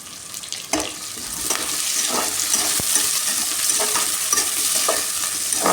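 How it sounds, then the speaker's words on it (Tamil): Onions and curry leaves sautéing in a pan for ridge gourd stir fry, a continuous close sizzle punctuated by repeated scraping and clinking strokes of a spoon. "கருவேப்பிலை போட்டுக்கலாம். நல்லா வதக்கி விட்டுக்கலாம்."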